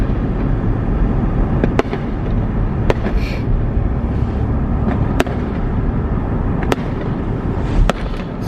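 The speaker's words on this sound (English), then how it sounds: "Fireworks over there, going off in the parking lot over here" Fireworks bursting outdoors over a lakeside neighborhood and parking lot on the Fourth of July, sharp distant bangs popping at irregular intervals over a steady low rumble of crowd and traffic noise.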